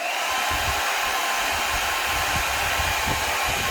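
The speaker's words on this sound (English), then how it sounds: "let me go ahead and put it on the first heat setting and turn it back on" An Ion LUXE compact ceramic hair dryer running on its first heat setting blows a steady, loud, close whooshing roar without a break, with no talking.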